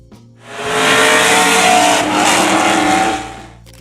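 A 1998 Pontiac Trans Am WS6 engine revs loudly for a few seconds, a single sustained roar that swells, holds, then falls away.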